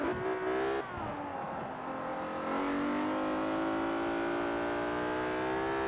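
A JDM car's engine drives in Forza Horizon 4, a steady harmonic drone that dips briefly as the revs drop and then climbs and holds at a higher pitch, loud and continuous with no talk.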